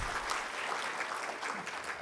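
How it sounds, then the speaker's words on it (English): An audience at a formal event claps, a dense, continuous wash of applause at moderate volume. "A big round of applause."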